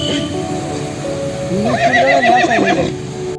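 A stallion at a riding stable with thirteen horses, where lunging practice takes place, gives one loud, close, wavering whinny that rises and trembles over steady background noise.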